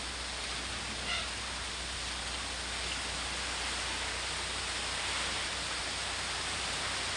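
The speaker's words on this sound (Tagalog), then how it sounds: "Siguro buhawi po na to nabasag. Kaya ganito kalakas ang hangin." Strong wind with heavy rain during a tornado, a steady dense roar of rushing air and downpour that stays loud and unbroken throughout, with no voices.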